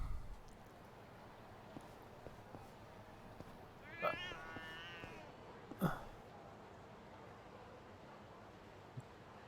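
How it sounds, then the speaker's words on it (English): A cat meows twice, briefly, around the middle, in the video game Lost Judgment: The Kaito Files, over a low steady background hum with faint clicks. "There's a cat."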